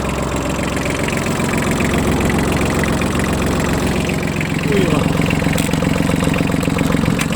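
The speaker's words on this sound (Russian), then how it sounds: "Под капотом мы видим, у нас двигатель трехцилиндровый." A Yanmar AF16 mini tractor's three-cylinder engine idles steadily and close by, a low even chugging rumble that runs the whole time with a slight rise near the end.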